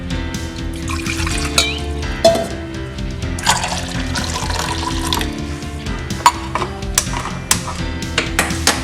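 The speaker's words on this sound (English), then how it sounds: "if it is becoming very thick, then you can add more water" Water pours steadily into onion buttermilk tambuli for about nine seconds in a kitchen, a continuous close splashing trickle broken by a few sharp clinks and taps.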